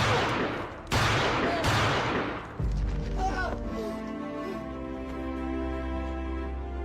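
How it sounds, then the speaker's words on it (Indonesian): Gunfire in a film scene during a fight, likely a pistol: three loud, sharp blasts in quick succession, then a music score rising alone. "Tidak lama kemudian terdengar suara tembakan"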